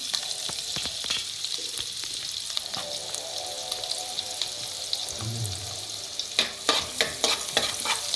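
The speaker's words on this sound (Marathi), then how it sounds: "आता याला चांगलं लाल फ्राय होईपर्यंत परतून घ्यायचं." Chopped garlic and cumin sizzle in hot oil in a pan, a steady quiet frying hiss broken by clinks and scrapes of a spoon stirring, busier toward the end.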